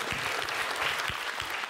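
A comedy roast audience applauds a performer, a brief burst of dense, steady clapping from a crowd.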